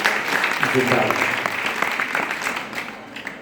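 An audience at a live Hindi poetry gathering claps steadily and fairly loudly for a poet, the dense patter tapering off near the end while a voice talks over it.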